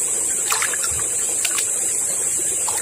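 A clear forest river flows near its upper reaches, giving a continuous rushing hiss of water with faint trickles and splashes. There is no talk.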